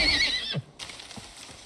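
A horse in the survival game Icarus neighs loudly and close by. The whinny starts high and drops away, followed by a few soft hoof clops, with no speech.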